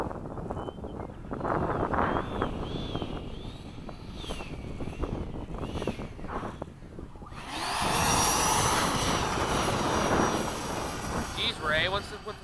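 A Freewing 90mm F/A-18C RC jet in Blue Angel livery makes a close pass at the flying field, its ducted-fan whine swelling into a loud roaring rush, then trailing off under wind noise.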